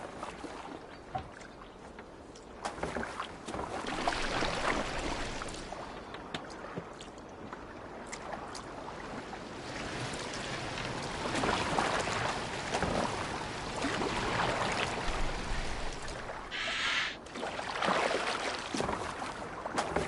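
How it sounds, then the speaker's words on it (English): A boat steered across the sea in Assassin's Creed Valhalla, with a steady churn of water and wash against the hull rising and falling over twenty seconds at moderate loudness, free of any talk. "Are you well enough to steer this boat?"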